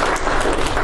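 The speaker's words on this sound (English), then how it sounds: "Give Lord a hand clap." A church congregation gives a short burst of dense hand clapping, loud and continuous, with no voices standing out.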